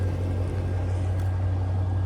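A Hemi car engine idling steadily after being restarted, a low constant hum with a strong even drone, close and unbroken, with no talking over it.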